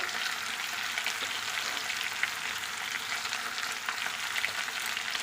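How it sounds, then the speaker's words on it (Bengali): Potatoes and tomatoes with salt and green chillies fry in a pan with a steady, even sizzle, stirred now and then, close and continuous with no talking. "লবণটা দিয়ে কিছুক্ষণ নেড়ে নিয়েছি"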